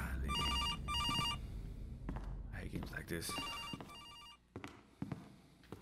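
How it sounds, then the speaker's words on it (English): A telephone rings in the horror video game Case: Animatronics, with repeated bursts of shrill electronic bell trills over game ambience and footsteps, while someone talks over the ringing. "What if I never answer the phone?"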